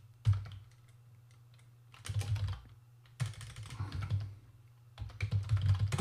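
Someone types on a computer keyboard during a coding workshop, with rapid clicking bursts separated by short pauses, close and distinct over a low steady hum, with no speech.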